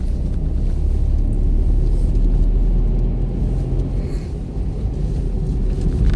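A car engine drones steadily while driving in second gear, a loud continuous low rumble with slight dips in level that may mark a gear change, and no talk over it.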